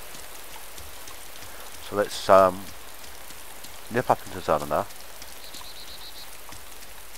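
Steady rain pours down in the video game DayZ, a constant hiss running through the whole stretch while someone talks briefly over it.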